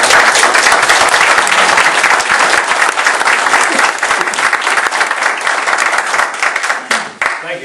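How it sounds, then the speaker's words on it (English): An audience at a town hall meeting breaks into loud, dense applause for a congressman, a sustained roar of clapping hands that carries on for several seconds before tapering off. "I think he deserves a round of applause"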